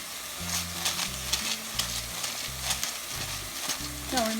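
Palabok sauce with soy sauce is stirred in a pan, a utensil scraping and knocking in a steady rhythm over a soft sizzle. A voice can be heard faintly at the end.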